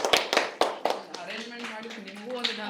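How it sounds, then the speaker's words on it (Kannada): Applause for Murali at a farming and theatre training camp comes as a short burst of scattered claps near the start, then fades as a voice begins talking over it. "ಮುರಳಿ ಅಣ್ಣಗೊಂದು ದೊಡ್ಡ ಚಪ್ಪಾಳೆ"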